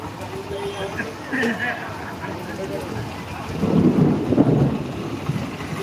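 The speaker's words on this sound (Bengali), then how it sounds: "মেঘের গর্জনটা তোমরা দেখতেই পাচ্ছ কত সুন্দর একটা গর্জন" Thunder rumbles during rain in Bhaluka, a low rolling growl that swells in the second half over steady rain and wind noise, with a voice talking faintly over it.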